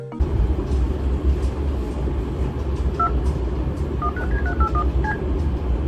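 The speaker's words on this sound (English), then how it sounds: "have you ever heard that weird phone dialing that some tapes had?" Telephone DTMF dialing tones play at the end of a Paramount VHS tape. A short run of beeping keypad tones rises in pitch and sits over a steady low rumble with faint ticking.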